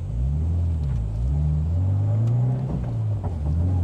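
Toyota 86 driven hard during drift practice, engine note rising and falling in steady revving sweeps with a constant deep rumble, close and loud throughout.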